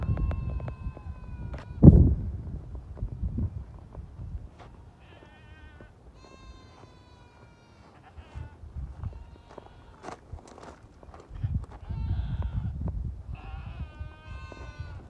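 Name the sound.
goats screaming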